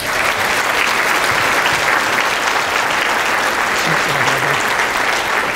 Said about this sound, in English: Let's give Joel a big round of applause.